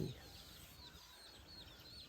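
Faint clucking from chickens in the distance, repeated in short calls over a quiet early-morning outdoor background.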